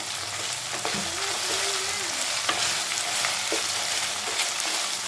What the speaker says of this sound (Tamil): இந்த இஞ்சி பூண்டு பேஸ்ட் நல்லா எண்ணெயிலேயே வதங்கணும்.